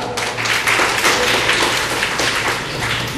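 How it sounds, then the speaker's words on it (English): A classroom audience gives sustained applause, a dense continuous patter of many hands clapping at close range with a steady loudness and a faint low hum beneath. "Give her a big clap."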